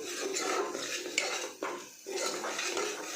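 Metal spoon scraping and clinking around a pan as coriander-cumin powder is stirred in, a steady busy scrape with brief pauses, close by, with no talking.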